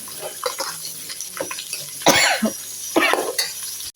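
Small onions (shallots) with curry leaves sauté for a large batch of green gram curry, with uneven bursts of sizzling and stirring scrapes that swell loudest near the middle and end, close and fairly loud, with no talking.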